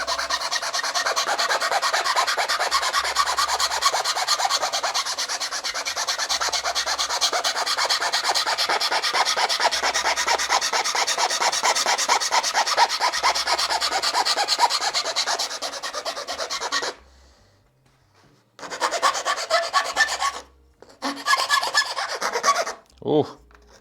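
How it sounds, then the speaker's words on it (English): A metal file rasps steadily against a wooden backplate in close, continuous strokes for about seventeen seconds, then stops briefly before a few shorter bursts of filing, with no talking. "I'll adjust the rest with the file."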